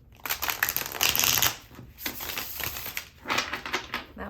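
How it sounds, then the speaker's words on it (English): Tarot cards are shuffled in quick riffling bursts, a crisp rapid fluttering repeated three times with short pauses between, close and clear. "I love that shuffle."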